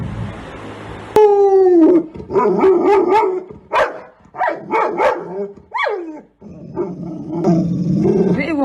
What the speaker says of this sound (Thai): เอาน้องหมาในบ้านนี้เห่าเลย